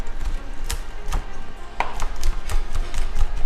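A knife chops crispy bacon on a cutting board in sharp, close, irregular knocks, about ten strikes in quick succession with no talk.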